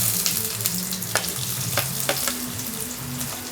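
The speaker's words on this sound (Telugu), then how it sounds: "దాన్ని ఇలాగ చిన్న చిన్న పీసెస్గా చేసుకొని కరివేపాకు కొంచెం ఆనియన్స్ వేసేసుకుందాము." Chopped onions and curry leaves sizzle steadily in a hot pan of oil for an aloo kurma curry, with a constant close frying hiss and a few light stirring clicks, alone without talk.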